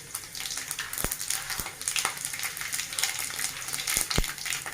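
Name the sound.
frying fenugreek, cumin and mustard seeds tempering in pan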